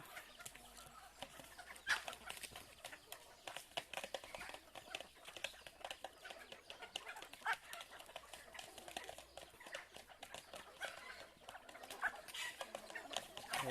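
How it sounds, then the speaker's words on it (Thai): Soft clucking calls from fowl recur over a busy outdoor background of rustling and chirping, fairly faint and scattered through the whole stretch. "ไก่ป่านะครับ"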